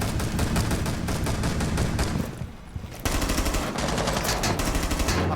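Rapid automatic gunfire in the video game Rainbow Six Siege rattles in dense, loud bursts, pausing briefly before another sustained volley resumes, with no talking.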